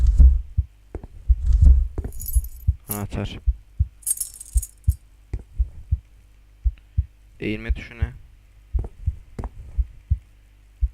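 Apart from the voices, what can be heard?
heartbeat sound in an indie horror video game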